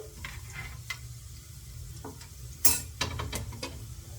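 Coriander seeds dry-roast in a pan while a spoon stirs them, giving scattered scrapes, taps and clicks over a faint steady sizzle at close range, with no voices.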